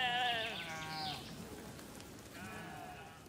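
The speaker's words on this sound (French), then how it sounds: "les moutons appellent leurs congénères, qui répondent avant de se précipiter sur place" Sheep bleat in calls and answers: a loud wavering cry, a second overlapping one, then after a pause another bleat, all fairly close over a faint outdoor background.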